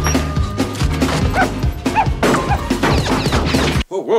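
A dog barks repeatedly in a comedy film scene, sharp yips mixed with crashes and thwacks of commotion, ending in a brief distorted tail.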